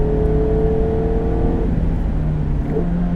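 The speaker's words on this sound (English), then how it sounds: "A lot of full throttle in this car so far" A 2017 Mazda MX-5 Miata RF engine roars at full throttle on a track toward its 7,000 RPM redline, a sustained droning whine close by with a slight pitch shift partway through.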